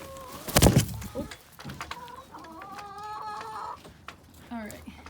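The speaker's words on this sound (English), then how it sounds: "my chicken got away" A loose backyard chicken clucks and calls in a series of short, close vocalizations, starting after a loud burst of nearby noise, with some voice-like sound mixed in.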